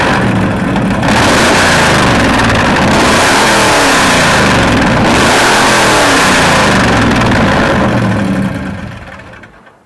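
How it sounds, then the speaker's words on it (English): A 1957 Chevy Gasser two-door wagon with its exhaust caps pulled off roars loudly through repeated revs and surges, a rough, heavy, uncapped exhaust bellow that stays up close before fading at the end. "we pulled the caps off so you can hear it this way"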